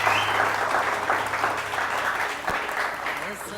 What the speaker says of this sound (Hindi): तालियां बजा के दिखाइए।